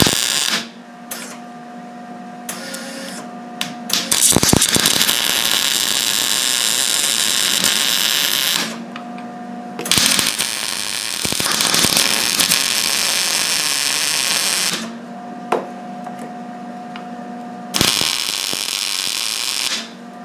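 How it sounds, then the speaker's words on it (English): Tack welds on a clutch bush kit come as loud, close bursts of harsh crackling hiss, several lasting a few seconds each, separated by short gaps with a steady low hum and clicks. "This only needs a couple of tacks of weld, and I usually do them in this bottom corner."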